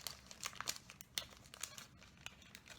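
Plastic packaging from a diamond painting kit crinkles close but quietly, a string of sharp, irregular rustles and crackles handled by hand with no voices.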